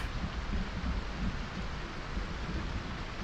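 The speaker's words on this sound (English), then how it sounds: "Now it turned into a thunderstorm." Steady rain and rolling thunder of a thunderstorm in the video game Project Zomboid, a dense continuous wash of rainfall with low rumbling throughout, fairly loud and without talk.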